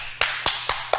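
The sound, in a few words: clapping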